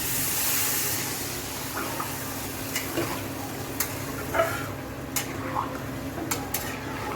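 A pot of rohu fish curry hisses with a steady sizzle after water goes in, with a few sharp clinks and scrapes of a stirring spoon against the pan.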